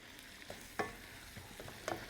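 Onions frying in a pan, outdoors over a wood fire, for a bean kuku; a faint, steady sizzle with a few stirring scrapes, close and without talk.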